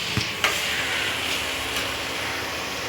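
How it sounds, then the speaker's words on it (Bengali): Pasta tipped into a hot kadai sizzles in a steady, close broadband hiss, with a couple of brief clatters near the start. "এখন আমার মা পাস্তা কড়াইতে ডালবে"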